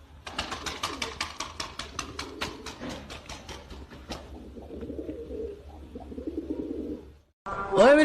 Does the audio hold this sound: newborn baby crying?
no